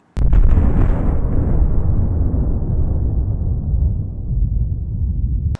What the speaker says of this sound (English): The explosion also creates a shock wave that travels for miles, destroying everything in its path.